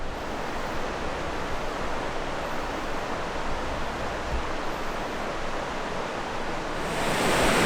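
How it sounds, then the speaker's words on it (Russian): Waterfall on a forest river, a steady, dense roar of rushing water heard close up, loud and unbroken throughout, with wind buffeting the microphone toward the end. "Вот за моей спиной водопад."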